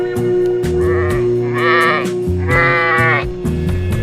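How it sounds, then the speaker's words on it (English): Sheep bleating loudly and close, a run of several drawn-out, wavering bleats over a steady farm-animal background with no talking. "S for sheep. S-H-E-E-P, sheep. Black sheep."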